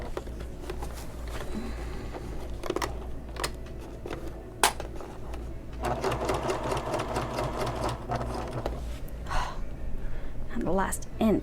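A backup home sewing machine, not very powerful, stitches through a convertible bag with a steady continuous mechanical hum and rapid needle patter, running throughout with brief pauses, while someone talks and gasps over it.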